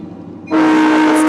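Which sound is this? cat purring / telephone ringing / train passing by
train passing by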